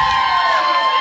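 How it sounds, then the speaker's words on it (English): A concert crowd at a live band show cheers and whoops loudly in a dense, steady roar of voices with a shrill whistle-like tone running through it. "y'all give one big round of applause to our sound guy back there"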